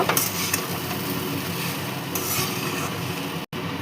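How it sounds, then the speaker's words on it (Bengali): Chira pulao (flattened rice) being stirred in a pan with chilli powder mixed in, a continuous soft scraping and rustling with faint sizzle, close and steady, broken by a brief cut near the end. "এবার ভালো করে মিশিয়ে নেব।"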